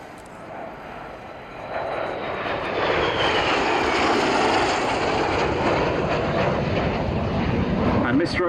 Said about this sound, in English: The Hawker Seahawk and the Hawker Hunter in formation.